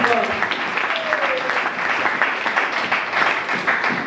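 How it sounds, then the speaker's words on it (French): A church congregation applauds together for the glory of God, steady mid-level clapping sustained throughout with voices mixed in underneath. "On peut acclamer pour la gloire de Dieu."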